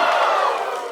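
A wrestling crowd at a MYPW Southeast Asia Championship match roars and cheers wildly, a dense, loud, continuous wall of voices with no break through the whole moment.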